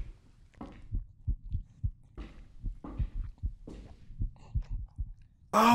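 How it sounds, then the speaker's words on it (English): Soft, muffled double-thump heartbeat in the horror video game Wrong Floor, pulsing in a steady slow rhythm under dark ambient quiet, ending with a sudden loud burst. "Why do I hear my heartbeat?"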